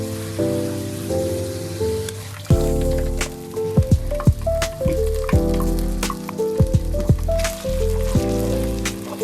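Ground masala paste sizzles and spatters as it hits hot oil over a fried onion tempering for a Karnataka coconut gravy, with crackling pops and intermittent clinks of a utensil stirring in the pan.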